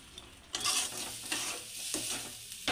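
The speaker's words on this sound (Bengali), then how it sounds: "সুজিটা জাল দিয়ে নিতে হবে।" Dry semolina stirred and roasted in a pan, with soft scraping swishes and a faint sizzle that repeat at an irregular pace, close and quiet, with no voices.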